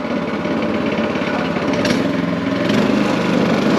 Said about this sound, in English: All right, push in the choke. Yeah. Got it? Give it a little gas.